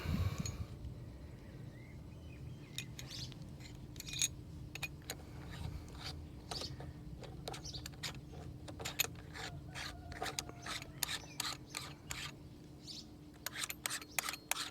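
Small metal-and-plastic clicks and taps of a mount being attached to a MoveShootMove compact star tracker, a scattered run of sharp nearby clicks and rattles over a low steady hum, with no talking.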